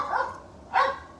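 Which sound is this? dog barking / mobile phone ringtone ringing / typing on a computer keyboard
dog barking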